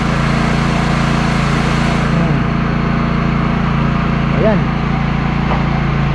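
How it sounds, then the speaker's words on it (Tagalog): A portable generator runs with a loud, steady engine drone and hum that fills the whole stretch, while people talk nearby over it. "Buti na lang may generator tayo."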